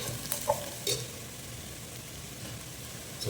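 Chili powder stirred into hot oil in a pan while cooking fish curry: a steady close sizzle broken by a few scraping spoon strokes, with no talking.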